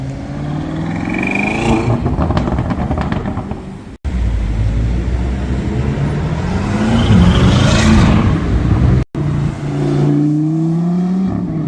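A Lamborghini Urus supercar on a road gives loud, close engine revs, rising and falling roars with crackling bursts, cut by brief silences, with no talk over it.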